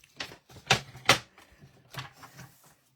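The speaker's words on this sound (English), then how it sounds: "So let me get my trimmer out again." A paper trimmer cutting cardstock, heard as a few sharp close clicks and swishes of the blade sliding along the rail, with brief pauses between strokes and no talking.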